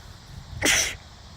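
A single sharp sneeze bursts out close by, brief and loud against a quiet background.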